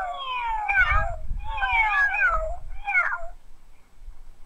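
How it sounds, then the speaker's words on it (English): Cats meow in three drawn-out, wavering cries that overlap as several voices, fairly close over a low rumbling background, and the last call is shorter before the sound trails off. "There were cats here,"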